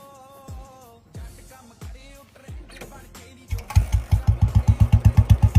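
A BS4 motorcycle fitted with a changed silencer cranks several times with short kicks or starter pulses, then fires up and settles into a loud, rhythmic, thumping idle close by.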